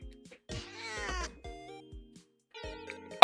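A cartoonish cat in the video game Cat Snap meows in a few short, tonal calls with pauses between them, loud and clear with no talking, ending in an abrupt burst of noise.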